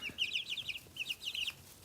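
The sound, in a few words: young chickens chirping in a brooder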